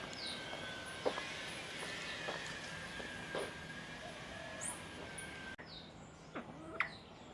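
Scattered bird chirps and calls from many bird species in a walk-through aviary at Bird Paradise, Mandai Wildlife Reserve, Singapore, over a steady ambient hum, with several short tweets rising above the background at irregular intervals.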